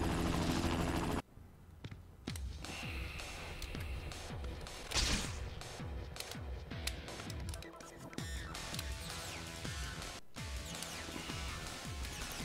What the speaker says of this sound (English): Holy cow, that chopper moves faster than it should.